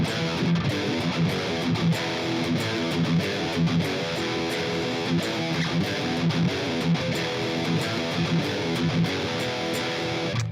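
Distorted electric guitar plays the bridge riff, the rhythm part before the solo, as a dense, steady chugging pattern of power chords at moderate loudness with no talking.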